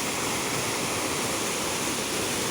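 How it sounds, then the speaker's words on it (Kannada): Continuous rushing of a stream near a temple at Ashoke, Gokarna, a dense, steady wash of flowing water close by with no pauses. "ಇಲ್ಲಿ ಹತ್ತಿರದಲ್ಲೇ ಒಂದು ಜರಿ ಕೂಡ ಹರಿತಾ ಇದೆ."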